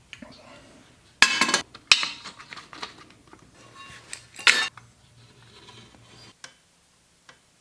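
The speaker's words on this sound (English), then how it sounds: "We got it all clamped in." Clamps tightened on a Grom motorcycle frame while a custom forward controls mount is fitted with angle iron, making a few loud ratcheting bursts and metallic clicks up close amid quieter handling noises, with a brief cut to near silence.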